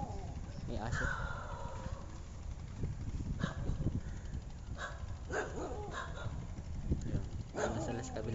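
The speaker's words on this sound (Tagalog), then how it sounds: "May aso." A dog barks a few times at moderate distance near a river jetty, the short barks scattered across steady outdoor background noise while someone talks over them.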